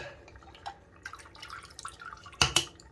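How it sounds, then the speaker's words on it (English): Old vinegar is poured out of a container into a sink after soaking a calcium-crusted faucet aerator, making faint trickling drips that end in two sharp splashes near the close. "dump out the vinegar."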